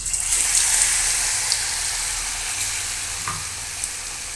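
Battered chop frying in hot oil, a continuous dense sizzle and crackle with a few faint pops, steady and close throughout.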